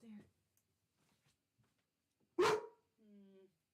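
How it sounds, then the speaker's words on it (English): A single sharp bark from a dog reacting to a FedEx delivery truck, loud and close, with a soft voice murmuring briefly before and after it. "My dog's gonna bark."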